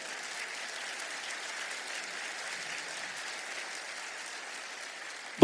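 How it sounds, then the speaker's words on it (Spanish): Steady, even applause from a church congregation during a sermon, a continuous wash of clapping at moderate distance with no talk, ending in a brief sharp knock at the close. "¿Cuánto le da un aplauso al Señor?"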